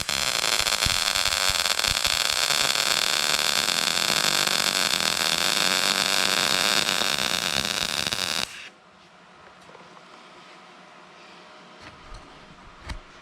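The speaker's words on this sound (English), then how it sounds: "I'm going to set the machine up to weld thin metal, and we're going to try to stitch this together." A Decapower XTRAMIG welder lays a bead on thin metal, giving a loud, continuous crackling hiss for about eight seconds before it cuts off abruptly, followed by quiet room noise and a few faint clicks.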